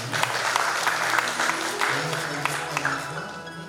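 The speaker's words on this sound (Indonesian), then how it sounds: "Tepuk tangan saya." Wedding guests at a church ceremony give a short burst of steady applause, moderately loud and filling the room, with a voice faintly audible beneath the clapping.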